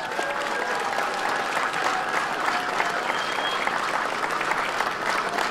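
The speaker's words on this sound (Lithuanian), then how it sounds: "kviečiu visus garsiai aplodismentais palinkėti jiems pačios didžiausios sėkmės" Audience at a Lithuanian State Day celebration in Daugai bursting into steady, dense applause, many hands clapping evenly and fairly loudly throughout with a faint murmur of the crowd beneath.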